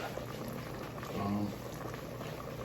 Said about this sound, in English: add a bit more water to all of that to get the flour and everything boiling